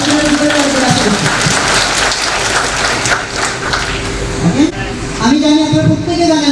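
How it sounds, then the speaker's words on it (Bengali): Sustained applause from a conference audience greeting a special guest, dense steady clapping throughout with a voice speaking over it and a lilting vocal line near the end. "তার জন্য জোরে করতালি আশা করছি"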